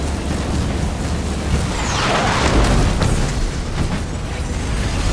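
An enemy building is destroyed in Halo Wars 2, a loud rumbling explosion with a sweeping crash that swells midway over dense, continuous battle noise.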